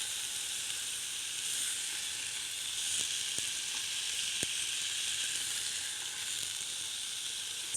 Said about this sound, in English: So I have actually sauteed them in the fat for a few minutes.